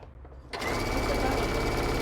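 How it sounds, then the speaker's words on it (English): A sewing machine stitches along both sides of a small fabric bunny bag, starting abruptly after a brief pause and then running loud and steady at one speed up close. "And I'm just sewing both sides."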